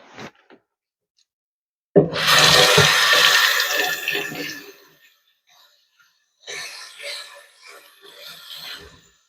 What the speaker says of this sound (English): Wash the celery here.